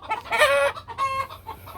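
Buttercup mix hens clucking and squawking in agitation, a close, loud burst of overlapping calls from a backyard flock waiting to be fed cabbage.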